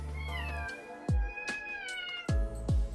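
Several cats meow close by: a long drawn-out wavering meow overlaps a series of shorter, sharp meows that come in quick bursts, with no talking.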